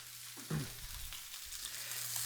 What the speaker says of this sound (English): we're going to put our beef right in there and let it start to sear.